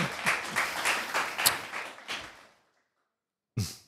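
Brief applause during a podcast conversation, a small group clapping in quick, close, uneven strokes for about two and a half seconds, then silence, then a single sharp burst at the end.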